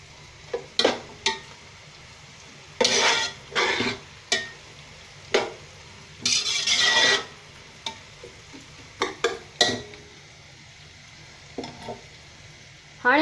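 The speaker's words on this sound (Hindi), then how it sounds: "तो असां हिनखे बस 1 मिनट वधीक फ्राई कंदासीं।" Vegetables with cabbage are stir-fried in a hot pan for egg fried rice, with a steady low sizzle broken by repeated bursts of spatula scraping and tossing, some longer and louder, at close range with no talking.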